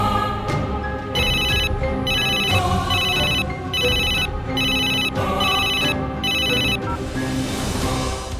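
A phone rings on and off in regular repeated bursts, a steady electronic ringtone that keeps going with no one picking up.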